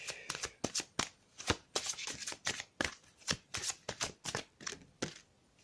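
Tarot cards are shuffled and handled in a steady run of crisp riffling bursts, close and fairly loud, one card drawn at the end without any voice.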